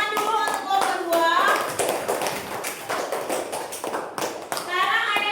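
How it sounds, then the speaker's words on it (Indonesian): A classroom of students in a teacher-training lesson claps for group 2: scattered, overlapping hand claps run under children's chatter and a nearby voice for about five seconds. "Tepuk tangan dulu untuk kelompok 2."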